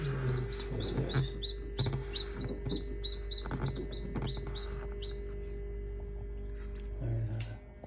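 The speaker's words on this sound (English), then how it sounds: "He's chirping." A newly hatched chick peeps in quick, high, repeated chirps at close range for the first five seconds, while someone talks softly over it.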